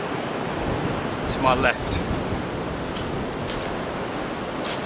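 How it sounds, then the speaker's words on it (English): Blustery wind moving through an oak, pine and silver birch forest, a steady broadband rush that holds level throughout, with someone talking briefly near the middle. "Blustery day."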